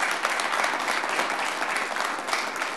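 Audience at a school board meeting claps in steady, dense applause, loud and continuous throughout with no talking.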